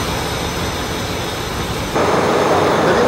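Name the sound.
ship main engine running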